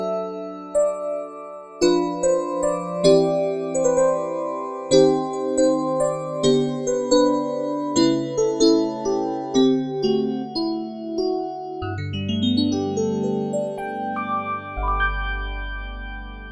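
Kawai KDP120 digital piano playing its 1980s ballad electric-piano voice, a bell-like chiming tone with sustained chords and a melodic line, clear and solo with no talking.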